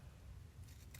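Scissors snip through paper while trimming a grid collage in a notebook, a close, brief cutting sound in a quiet room.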